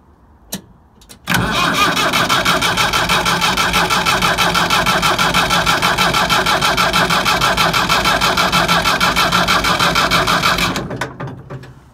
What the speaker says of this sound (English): check 100 times that it is actually out of gear, and then we are ready to turn the key.